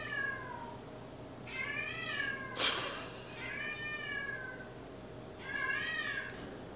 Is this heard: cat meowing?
yes